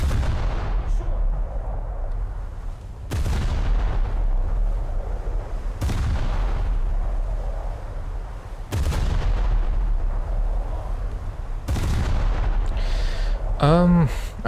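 Naval main guns firing in a warship game, five heavy booming salvos spaced a few seconds apart, each a deep loud blast with a rumbling decay over a low ambient drone.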